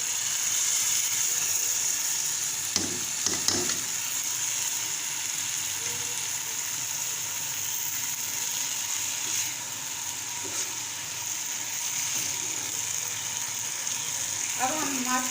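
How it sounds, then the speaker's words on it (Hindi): Urad (mash) dal frying in oil in a pot, a steady broadband sizzle throughout with occasional scraping stir clicks, close and fairly loud. "अब हम माश की दाल को उस वक्त तक भूनेंगे जब तक आयल अलग और दाल अलग नहीं हो जाती"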